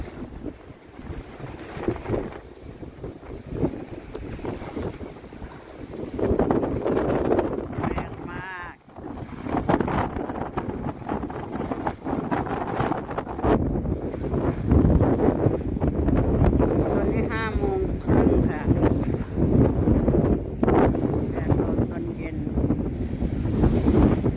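Strong wind buffets the microphone over the steady wash of waves on an open lake in Sweden, loud and continuous throughout.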